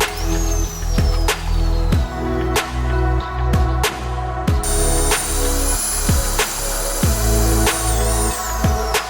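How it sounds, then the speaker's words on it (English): Loud continuous drilling through a thick masonry basement wall with a rough, pulsing grind and repeated sharp knocks as the bit hammers, plus a thin high whine overhead. "Drilling it out section by section."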